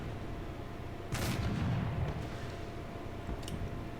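Tank cannon fire and anti-aircraft flak in a World War II tank video game, including a ZSU-37 and a Panther, arrive as a muffled distant burst of blasts over a steady background hum, with a brief crack later.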